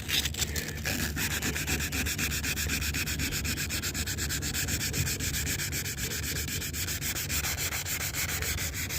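Hand sanding of van fender flares, a continuous close scratchy rubbing with fast regular strokes, steady and fairly loud for the whole stretch, with no voices over it.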